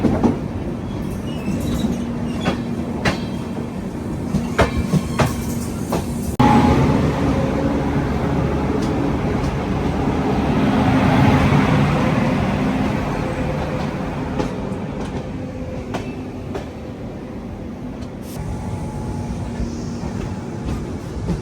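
Navyug Express passenger train running along the rails, a continuous loud rumble and clatter of wheels with a swell in the middle, heard from on board.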